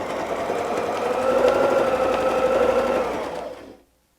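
A sewing machine stitches a dahlia design in ruler work quilting, with a steady, close mechanical whir running for about three and a half seconds before stopping abruptly.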